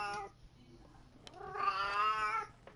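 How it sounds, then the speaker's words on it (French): A house cat meows in a long, drawn-out wail close to the mic, preceded by a shorter meow and a brief click, with no talk over it. "arrête de miauler, s'il te plaît."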